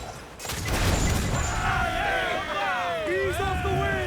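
Ship cannon fire in the pirate naval game Assassin's Creed 4 Black Flag: a loud burst of booming shots and rumbling blasts, followed by a steady roar of battle with shouting crew voices over it.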